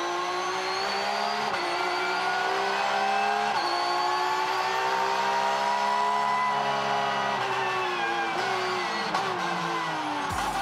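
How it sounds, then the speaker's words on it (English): Porsche GT3 Cup race cars roar past continuously on a downtown Toronto street circuit, engines revving up and down through gear changes, loud and sustained across the whole stretch. "The sweet sound of Porsche in downtown Toronto."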